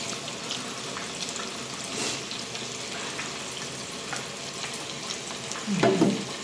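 Stuffed eggplant with pork deep-frying in hot oil, a dense, even sizzle that holds steady throughout, close up, with a brief louder bubbling burst near the end and no voices.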